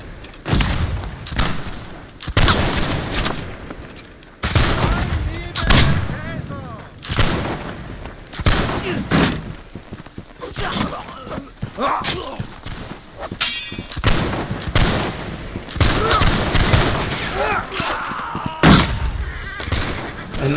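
Musket volleys and cannon fire during a castle siege in the video game Holdfast: Nations At War: a rapid, chaotic string of loud booming shots and thuds, some overlapping, with voices faintly underneath.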